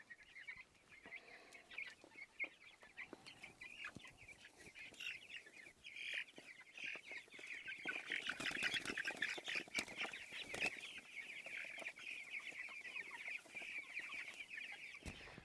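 Farm birds out on pasture, a flock of chickens clucking and chattering continuously at moderate distance, growing busier and denser partway through, with occasional louder calls over the general murmur.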